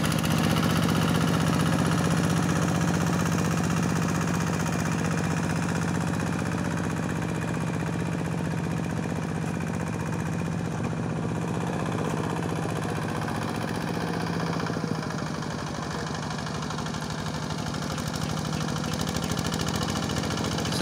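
A rice field tractor engine plowing a small plot runs steadily throughout, a continuous low rumble with mechanical clatter at a constant idle-like pace, fairly close and loud.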